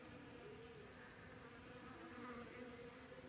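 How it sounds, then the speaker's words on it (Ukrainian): A steady, close insect buzz from several bees humming continuously around flowering lemon trees on an overcast day, with no talking over it. "Бджоли гудуть, працюють, хоч і нині похмурно, але вони є."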